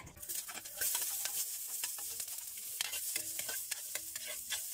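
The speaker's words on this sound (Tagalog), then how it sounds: "So karon maglunod na ta sa atong panakot." Lemongrass, chili, ginger, garlic and onion sauté in a hot pan, a continuous sizzle broken by frequent scraping clicks of a utensil stirring, close and fairly loud.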